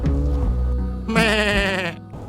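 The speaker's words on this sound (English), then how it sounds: "There are sure enough sheep in this field." Sheep bleating in a coastal field on the South Downs Way, a low drawn-out bleat then a loud, wavering high bleat close by, with outdoor wind rumble underneath.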